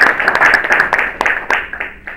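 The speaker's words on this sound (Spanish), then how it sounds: "muchas gracias, Mar. Un aplauso." Audience applause at an indigenous languages conference in Santiago, a dense patter of many hands clapping steadily for a couple of seconds at close to moderate distance, with no talk over it.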